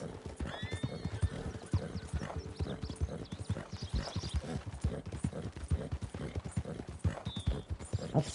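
Hooves clip-clop rapidly and steadily at the stables in Blackwater in Red Dead Redemption 2, with a horse neighing and snorting close by, fairly loud and continuous.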